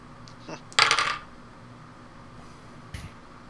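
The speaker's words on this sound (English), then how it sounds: "Stop stalling, roll your dice." Dice rolled during a tabletop role-playing game clatter in one short, close rattling burst. A faint tap follows a couple of seconds later over quiet room tone.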